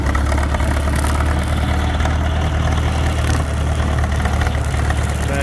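A farm's only tractor, an older, very strong machine, runs steadily at idle with a deep, even engine rumble and constant vibration, close and loud with no break.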